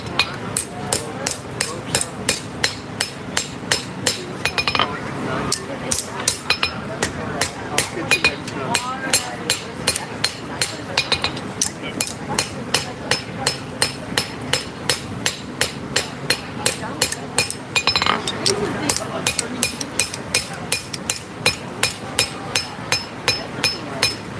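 Steady hammer blows ring out on a knife blade, forging the bevels and plunge line at an outdoor farmers market demonstration; regular, fairly loud strikes continue throughout with brief pauses and faint crowd murmur behind.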